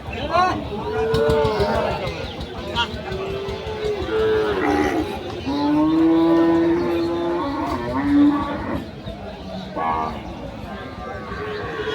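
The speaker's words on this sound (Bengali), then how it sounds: "দেখুন কত বড় বড় গরু ওঠে, প্রচুর গরু আমদানি হয়।" Cattle moo repeatedly at a crowded rural cattle market in Bamandi Bazar, Gangni, Meherpur, with several long, loud lows rising over constant crowd chatter and nearby voices.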